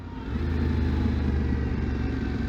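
2019 Yamaha Tenere 700 motorcycle engine on the move, a steady mid-pitched drone with rough low rumble and wind noise, fairly loud and constant throughout.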